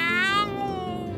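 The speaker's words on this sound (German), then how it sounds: "der Kater" A tomcat gives one drawn-out, falling meow as a radio-play sound effect, fairly quiet and isolated, tapering off after about a second.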